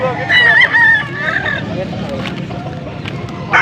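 A gamecock stag crows nearby in a loud, wavering call lasting about a second and a half, followed by quieter background noise and a clipped call at the end. People talk throughout.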